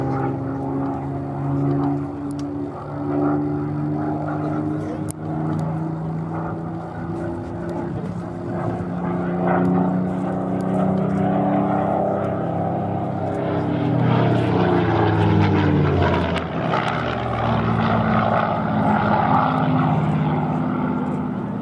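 A Supermarine Spitfire propeller fighter flies at the Duxford airshow, its engine drone steady and fairly loud throughout, with the pitch bending and swelling as it passes.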